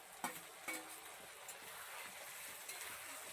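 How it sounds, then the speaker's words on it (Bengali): Ground spice paste, hand-ground on a stone slab, going into a pan for a meat curry and being stirred, with a soft steady sizzle and a few sharp scrapes and knocks of the spoon. "তো এখন মশলাটা দিয়ে দিচ্ছি।"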